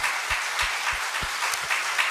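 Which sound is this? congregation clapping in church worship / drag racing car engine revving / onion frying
congregation clapping in church worship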